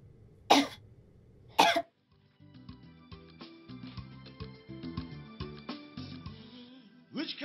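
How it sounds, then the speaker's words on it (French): Two sharp, loud coughs from one person in quick succession near the start, followed by a stretch of music. "Pourquoi tu tousses?"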